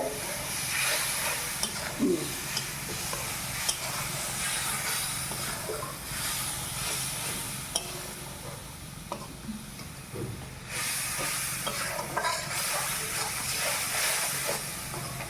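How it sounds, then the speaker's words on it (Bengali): Water poured into a hot pan with spice masala for a tengra fish curry sets off a loud, continuous steamy hiss and sizzle that surges and eases, with occasional faint clinks, and no talk. "একটু জল দিয়ে মশলাটাকে বাটিটাকে ধুয়ে নিচ্ছি আমি ভালো করে"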